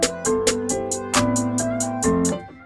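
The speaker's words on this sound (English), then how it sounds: "You could put the snare here, so it's like spaced evenly between the claps" Programmed drum pattern with a snare spaced between claps, sharp regular hits over a sustained melodic synth loop, loud and close with no talking.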